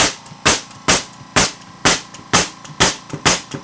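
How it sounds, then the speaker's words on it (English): Nail gun driven by a Rolair JC10 oil-less 2.5-gallon air compressor fires eight sharp pneumatic shots in quick, fairly even succession, each a loud close crack with a short hiss, no talking. "Let's fire some more."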